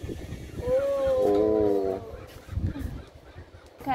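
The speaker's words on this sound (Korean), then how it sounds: "갈매기 친구들이 이렇게 있습니다, 옥상에는." Seagulls call from a rooftop in Porto, Portugal: a loud, nearby cry with stacked wailing harmonics, about a second long, followed by scattered softer squawks and outdoor rustle.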